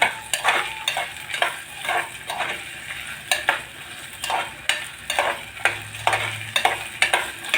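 Soaked cowpea beans are stirred and fried in a hot pan, with a regular series of close scraping strokes over a steady sizzle and an occasional light clink of a utensil; no one speaks.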